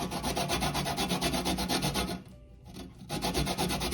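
A lime rubbed over a grater for zest gives a quick, close rhythmic rasping of steady scrapes, with one brief pause before the scraping resumes.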